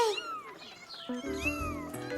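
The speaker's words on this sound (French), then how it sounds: "Caillou avait peur du chat en colère. Gilbert n'avait jamais craché comme ça après lui" Cartoon cat angrily meowing with yowling caterwauls, several drawn-out cries close and loud, followed by lower bright tonal cartoon sounds with no talk over it.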